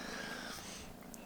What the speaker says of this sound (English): Someone is purring